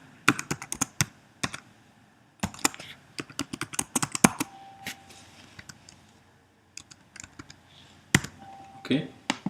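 Someone types on a computer keyboard close by, producing quick bursts of light clicky keystrokes separated by short pauses, fairly quiet.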